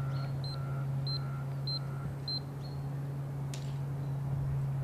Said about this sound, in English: We press zero and it beeps four times.